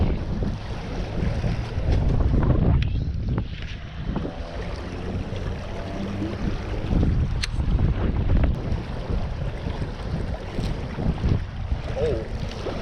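Strong gusting wind buffets the microphone on a small fishing boat on a Colorado lake during prespawn season, a loud continuous low rumble with surging gusts and faint water sounds, no talk.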